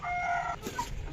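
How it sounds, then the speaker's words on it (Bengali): A European-breed chicken gives a brief, close vocal call, a short drawn cluck or crow that ends abruptly in about a second, with nothing else around it. "এটা হলো মুরগ, দেখছেন, এটা হলো মুরগি।"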